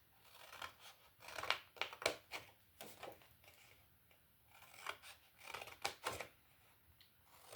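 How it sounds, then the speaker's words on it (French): Scissors cut paper along fold lines while making a scrapbook book holder, giving close, quiet, irregular snips in short clustered runs with small pauses between them. "on va couper là, sur la limite des plis, pour que cette partie-là devienne mobile"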